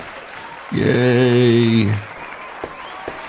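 Short burst of cheering or applause as a victory celebration in a Fortnite match, loud for about a second with a harmonic tone, then fading while someone says a word.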